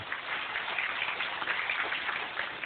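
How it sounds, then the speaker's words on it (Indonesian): Steady, dense applause from an audience at a religious teaching seminar, a muffled, hiss-like wash of many hands clapping, with no voices over it. "Anda boleh tepuk tangan untuk ini."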